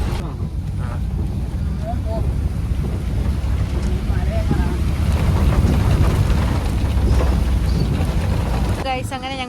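Strong, cold wind buffets the microphone in a snowy outdoor spot, a steady loud roar and rumble running throughout with brief voices and a short sharp noise near the end.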